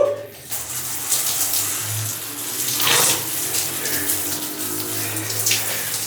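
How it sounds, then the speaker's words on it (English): A cold shower runs with a steady, close, full hiss of spraying water that carries on without a break. "we're gonna take a nice cold shower"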